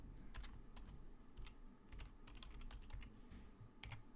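Someone types a command on a computer keyboard, a quiet, uneven run of individual key clicks with brief pauses, and no voices.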